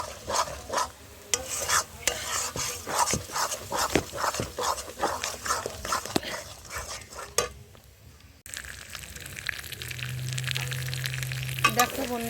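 Ground bottle gourd leaf paste, mixed with cumin and ginger paste, fries in oil. A spatula taps and scrapes the pan rhythmically before settling into a steady sizzle, with a dog barking faintly at one point.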